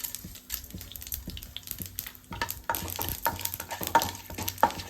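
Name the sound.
mustard seeds and urad dal frying in oil in nonstick pan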